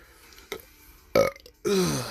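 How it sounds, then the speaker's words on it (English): Several burps of growing strength come one after another, the last long and loud. The sound is close and plain, with no other noise behind it. "Excuse me, I'm not trying to burp."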